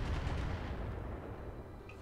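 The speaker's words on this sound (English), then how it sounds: "That's a lot of missiles." In the Roguetech video game, a dense barrage of missile fire rumbles as a loud, continuous low roar with overlapping booms that slowly fade, without any voice.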